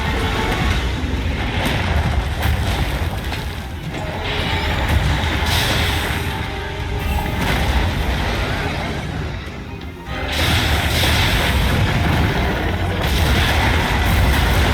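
Wyvern gun firing in Monster Hunter Wilds during a fight with Gogmazios, heavy booming blasts and crashes layered over dense, loud game effects and battle noise throughout, with a sharp renewed burst partway through.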